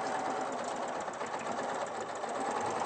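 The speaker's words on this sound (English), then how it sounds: "So we're going to sew. I'm going to go fairly gently." A sewing machine stitches a bag handle, its motor whirring at an even, rapid hum with a steady mechanical rattle, close and continuous, with no voices.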